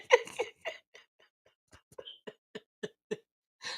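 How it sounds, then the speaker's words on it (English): A few short, close coughs burst out at the start, followed by quieter scattered clicks and breaths in an otherwise quiet room. "So, see, I had to cough."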